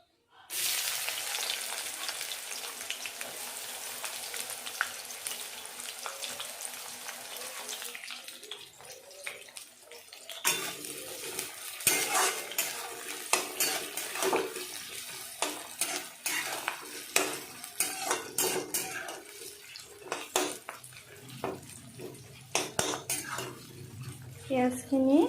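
Onions frying with a bay leaf in a pan for a chicken curry with bottle gourd, starting with a loud burst of sizzle that settles into softer frying under repeated utensil scrapes and clinks of stirring.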